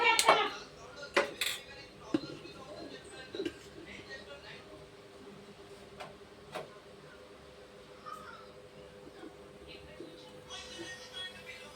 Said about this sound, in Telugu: గిన్నె పెట్టాను